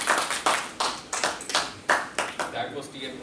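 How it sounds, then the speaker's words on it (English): Scattered hand clapping from a small audience at a Toastmasters club meeting in Karachi, about a dozen distinct sharp claps in an uneven rhythm, close and fairly light. "Please give a big round of applause for Mr."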